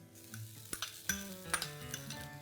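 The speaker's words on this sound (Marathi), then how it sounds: "आता आपण बटाटे टाकून घेऊया हे उकडलेले बटाटे आहेत" Three large boiled potatoes tipped into a pan of fried onions, with soft sizzling under a few sharp clinks and scrapes of a spoon stirring against the metal pan, close and fairly quiet.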